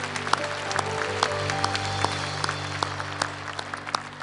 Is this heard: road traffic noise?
no